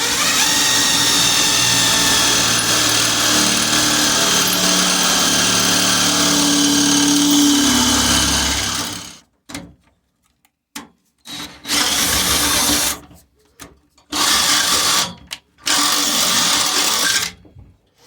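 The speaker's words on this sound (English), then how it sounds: "we're going to start drilling on the seat now and getting it mounted in there" A power drill bores into a car seat mount for a front-wheel-drive UCAR race car, a steady loud grinding whine for several seconds, then breaking into short separate bursts with silent gaps between.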